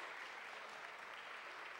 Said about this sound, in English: Another round of applause for Little Nick.